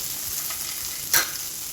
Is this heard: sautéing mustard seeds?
yes